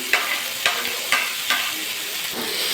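Raisins being stirred through a fruit chutney in a pan, a spoon scraping in four distinct strokes over a steady close sizzle with no talking.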